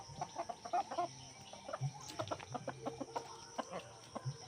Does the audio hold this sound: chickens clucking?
yes